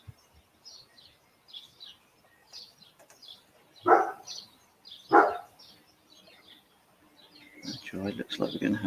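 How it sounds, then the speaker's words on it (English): A neighbour's dog barks in two loud bursts at a morning home campsite, with faint birdsong chirping throughout and a person starting to talk near the end. "It looks like we're going to have the neighbour's dog barking throughout"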